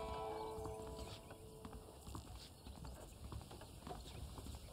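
Horse hooves clip-clop steadily at a walking pace in the Red Dead Redemption video game, soft and fairly close with an even rhythm, alone without talk.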